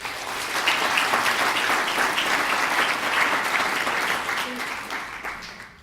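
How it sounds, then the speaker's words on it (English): Audience members at a youth investor panel give a big round of applause, steady, loud clapping sustained for several seconds before gradually thinning out. "Let's have a big round of applause"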